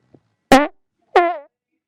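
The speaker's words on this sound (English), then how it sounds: "Was that a fart?" Two loud, buzzy farts, each about a quarter second long, separated by silence after a tiny click at the start.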